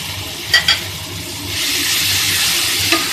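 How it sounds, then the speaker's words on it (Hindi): Tomato paste goes into a hot pan for a chana matar ghugni, with two quick clanks followed by a loud, steady frying hiss that swells and holds. "इसके बाद टमाटर जो पेस्ट रखे हैं ये डाल देते हैं।"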